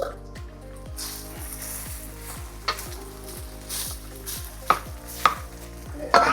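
Egg hitting a hot pan with browning garlic and rice for Spam-silog baked sushi, sizzling steadily near the mic with scraping stirs and a few sharp clinks, under a rhythmic low background beat.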